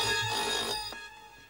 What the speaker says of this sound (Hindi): मैंने सिर्फ ये पूछने के लिए फोन किया कि राधिका कैसी है।